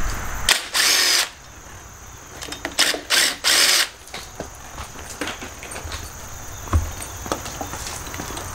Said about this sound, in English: Alright, time to pull the carburetor off.